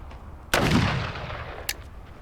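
A Colt Walker black powder revolver fires a single heavy conical bullet over a 48-grain powder charge, making one loud, close boom that rolls off into a long reverberating tail, followed by a faint click.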